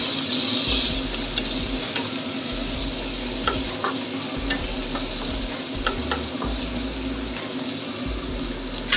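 Onion and ginger hiss and sizzle in hot oil with dried shrimp as they are stir-fried, a steady, close frying crackle with scattered stirring scrapes throughout.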